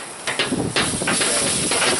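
Meat sizzling and hissing steadily on a barbecue grill after red wine is splashed over it, a continuous broadband fizz with brief louder bursts, close by and with no talking.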